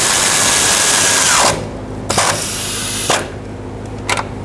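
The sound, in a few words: tightening a clamp bolt on a fuel pump lock ring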